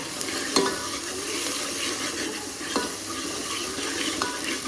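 Potato curry with yogurt being stirred in a pan, a continuous wet sizzle with a few sharp spoon clinks against the pan, no voices.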